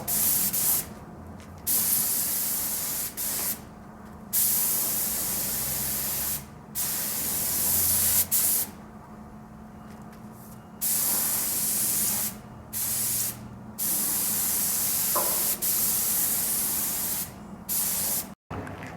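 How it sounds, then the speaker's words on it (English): Epoxy sealant sprayed onto the inside surface of a boat's center console in repeated long bursts of close, loud hissing, separated by short pauses, with no talking. "I'm going to seal the inside surface with"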